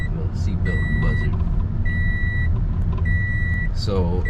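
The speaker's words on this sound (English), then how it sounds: "Seatbelt buzzer." A Toyota's seatbelt warning buzzer chimes in repeated evenly spaced electronic beeps, clear and close inside the cabin over steady road and engine noise.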